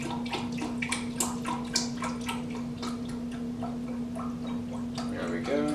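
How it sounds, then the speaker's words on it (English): Organic chicken bone broth poured into a measuring cup, a continuous close liquid stream with small splashes and gurgles, alongside a steady background hum. "now I'm going to go ahead and measure out my 2 cups of the bone broth"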